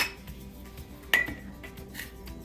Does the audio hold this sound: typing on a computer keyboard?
no